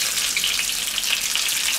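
Fleischpflanzl meat patties fry in a pan on high heat with a steady, dense crackling sizzle that stays close and even for the whole moment, with no voices.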